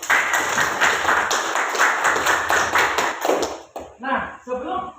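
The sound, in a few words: audience applause for classmates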